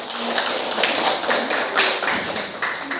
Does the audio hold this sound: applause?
yes